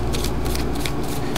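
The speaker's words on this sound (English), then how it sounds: "you can actually shuffle into the cards like this" Sleeved Ultra Pro Yu-Gi-Oh cards shuffled in quick riffling bursts, a close, steady papery rustle with repeated short flicks and no talking.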